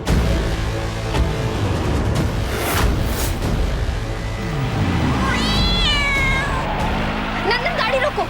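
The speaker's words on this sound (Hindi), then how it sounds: "बिल्ली ने रास्ता काटा।" A cat lets out a drawn-out meow followed by a shorter one, heard over people talking and background rumble.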